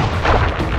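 Fireworks from the Sly Cooper and the Thievius Raccoonus video game, a loud deep booming blast with rumbling tail, close and alone.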